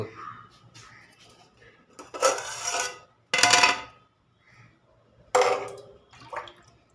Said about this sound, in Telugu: తగినంత వాటర్ వేస్తున్నాం